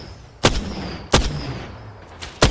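Gunfire in the video game Apex Legends: three loud, sharp booming shots spaced well apart, each with a short ringing tail over a low background rumble.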